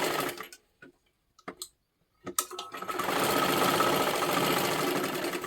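A sewing machine stitching a lining into silky fabric runs in a steady, close whirring hum for the second half, after a few short start-stop bursts with quiet gaps between them.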